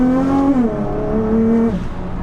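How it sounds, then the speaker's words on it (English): A 660 BHP Nissan GTR's engine warms up on a cold day, its rev rising, dipping and settling in loud close harmonic tones over a steady rumble, with no talk. "That's it, the engine's warm now."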